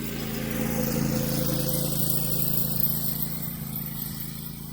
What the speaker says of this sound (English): This city worker is driving all around me.